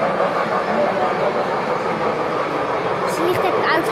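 A small LGB model garden train rumbles steadily along a track, with a continuous mechanical whir and faint rattling, close by and fairly loud.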